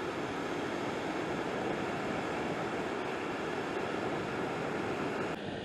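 Steady, dense roaring of a flooded creek rushing over a pond's retaining wall fills the whole clip, loud and constant like a torrent pouring over a wall, with wind noise mixed in.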